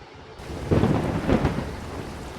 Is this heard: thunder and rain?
yes